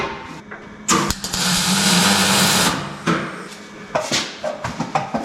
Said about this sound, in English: Then I can go weld from down.